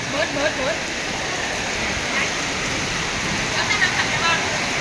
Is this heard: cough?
no